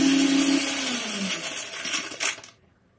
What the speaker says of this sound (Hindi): इसको हम थोड़ा थोड़ा ऐसे मिक्सर जार में डाल के